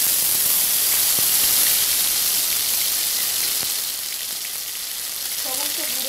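Ginger paste and ground spices fry in a pan with a steady, bright sizzle and crackle, close and loud throughout, easing slightly toward the end as faint voices murmur in the background.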